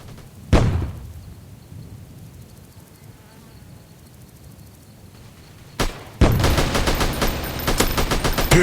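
Gunfire in a small mobile shooting game: a loud, close blast, then a low hum, a second blast, and a rapid run of sharp repeated shots.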